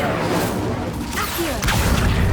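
An Incendio fire spell is cast in the Hogwarts Legacy video game, a dense roaring whoosh of flame with a heavier burst midway, loud and continuous throughout.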